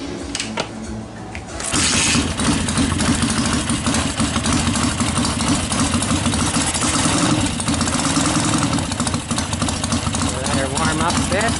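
An engine mounted on a break-in machine, its carburetor tickled before a kick start, catches after a short quiet lead-in and settles into a loud, steady, rumbling idle that runs on continuously.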